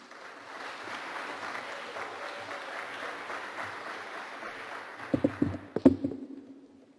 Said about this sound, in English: Give them a hand of applause, please.